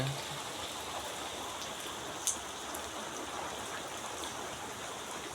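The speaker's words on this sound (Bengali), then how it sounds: "বৃষ্টির কারণে এক জায়গায় একভাবে দাঁড়িয়ে রয়েছে, আর বৃষ্টি হচ্ছে" Steady rain falls outside a room, a soft continuous hiss of drops on surfaces with one brief sharper tap partway through, no voices.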